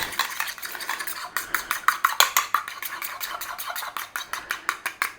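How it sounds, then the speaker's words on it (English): A raw egg being broken up and beaten in a bowl for an Italian-style meatloaf mix, brisk rhythmic clicking strokes of a fork against the dish, close and continuous in quick bursts. "So just break up your egg."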